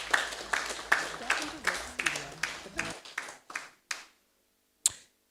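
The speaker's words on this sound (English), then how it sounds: "A round of applause again for our director." A small group claps for a director in a few loud, spaced, rhythmic claps that thin out and stop, with scattered last claps afterward.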